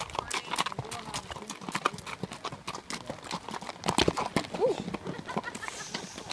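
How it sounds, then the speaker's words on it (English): A horse's hooves clip-clop steadily in a continuous walking rhythm, close and distinct, with a brief snort or whinny partway through. "today I went on a horse ride with my aunt and my uncle"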